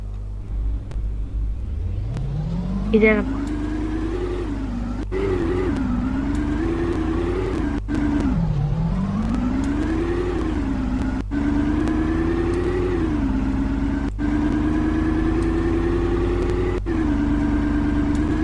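A car in a role-play video game starts up and drives off, its engine note rising and falling through gear changes as it accelerates and cruises steadily. Game sound effects run continuously, and a person says a brief word near the start.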